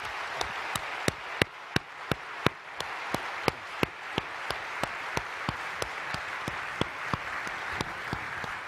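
Audience applause welcoming Dr. James Fallon at a CFS 2015 talk: steady clapping throughout with a few sharper, louder claps standing out on a regular beat, no voices.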